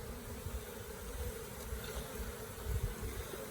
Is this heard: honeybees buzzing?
yes